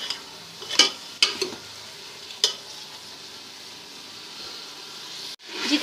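Beef being stirred with yogurt in a cooking pot for a karahi-style curry, a low steady scraping and sizzle with a few sharp spoon knocks against the pot, moderately close, no talk.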